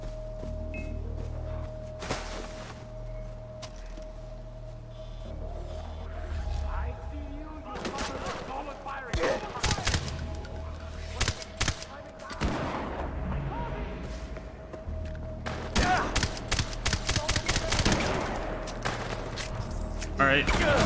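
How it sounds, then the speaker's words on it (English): Bursts of assault rifle fire in the video game Far Cry 4 crackle in rapid clusters over a steady low in-game background hum, with loud volleys recurring through the second half. "Assault rifles."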